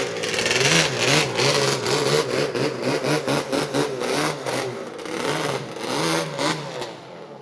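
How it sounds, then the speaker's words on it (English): A four-cylinder two-stroke snowmobile engine runs loud and close, its buzzy exhaust pulsing with repeated revs rising and falling over several seconds. "if you guys ever want to know what 2 engines sound like on a snowmobile, that's it."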